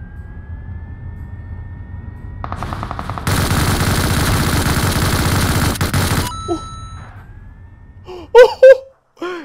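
Automatic weapon fire in the battle royale game PUBG Mobile, a loud sustained burst of rapid shots lasting about three seconds, preceded by a short rattling volley and followed by scattered game sound effects and a few sharp tonal blips.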